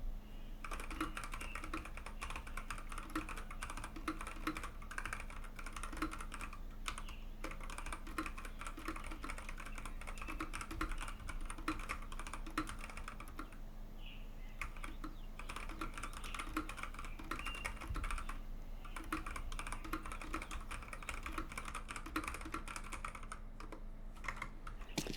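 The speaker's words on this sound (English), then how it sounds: "Also, I do apologize for my keyboard being annoyingly loud." Loud computer keyboard typing continues steadily at close range, a dense run of rapid clicky keystrokes with brief pauses, alone without voices.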